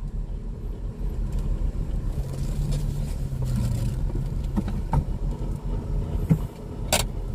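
A 1995 Toyota Starlet reverses, its engine a close low rumble with a slight rise in revs and some small clicks and rattles near the end.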